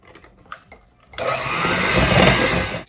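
Electric hand beaters whir continuously through gluten-free oat cookie dough made with oat flour, starting abruptly after a few faint clicks and running loud and steady to the end.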